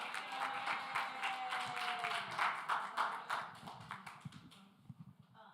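Audience at a National Action Network Saturday rally applauding a young girl, a steady wash of many hands clapping that thins into scattered claps and fades out near the end.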